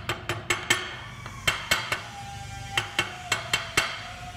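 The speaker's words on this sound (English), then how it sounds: "Giving it a couple little taps so it's flush all the way around." Short metal taps of a punch driving a seal flush into a Vespa P200 fork knuckle on a firm surface, about a dozen sharp, close strikes in small irregular clusters with no talk.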